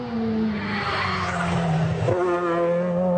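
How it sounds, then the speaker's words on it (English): A rally car drifts through corners, tires skidding and squealing over a loud, revving engine whose pitch swoops and then drops sharply partway through, with no talking. "it's kind of like satisfying to watch him like drift around corners"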